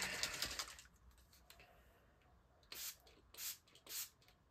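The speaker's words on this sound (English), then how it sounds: "At least three times I spray." A few short hissing sprays from a nearby spray bottle, three quick bursts near the end after a quieter stretch.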